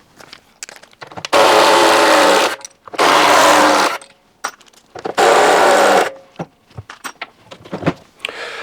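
A power driver loosens large Torx screws on a Whirlpool Zen FSCR10431 washing machine during disassembly. It runs in three loud, close whirring bursts of about a second each, with quieter handling clicks and knocks in the gaps.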